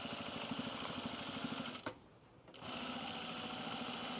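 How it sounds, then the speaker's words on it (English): A sewing machine stitches a seam on a Carolyn pajama top from Closet Core Patterns, running steadily and close, breaking off for about half a second before resuming at the same even pace. "I'm just going to sew to the left of my seam line here."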